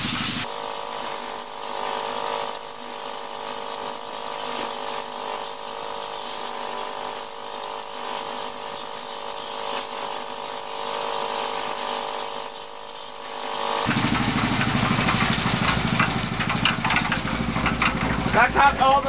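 A concrete mixer churns water around its drum to knock loose stuck concrete, a steady mechanical drone with sloshing that turns rougher and louder near the end, running alone without talk.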